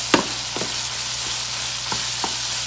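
Ground beef with red peppers fries in a pan with a steady, bright sizzle, broken by a few soft scrapes and knocks of stirring.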